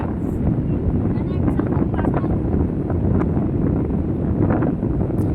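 Steady, blustery seaside wind at Sagar buffets the microphone with a continuous low roar, and faint voices come and go beneath it.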